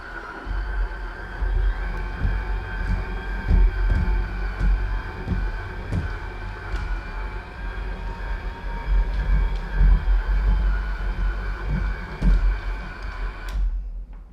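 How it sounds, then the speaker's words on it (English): A HIZERO F100 wet floor cleaner runs on its wetter setting with a loud, steady mechanical hum and whine, rhythmic clacking and rolling underneath, close and continuous until it cuts off abruptly near the end. "you just heard the real sound of the machine running"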